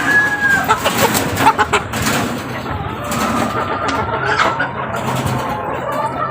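Chickens cluck in short, repeated bursts over a constant wash of background noise on a rainy day, the calls fairly close and irregular.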